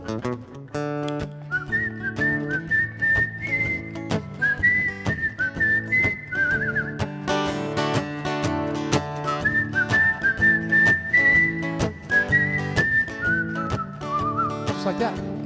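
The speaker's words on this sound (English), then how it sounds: "Can you guys whistle?" Concert audience at a country music show whistles a melody together in sustained, wavering tones over a steady band accompaniment, the crowd's whistling rising and falling in phrases throughout.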